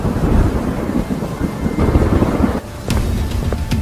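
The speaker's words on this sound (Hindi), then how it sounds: "बाहर मूसलधार बारिश हो रही थी।" Torrential rain pours down steadily during a thunderstorm, a dense, loud wash of noise with low rumbling surges, briefly easing near the end before returning at full strength.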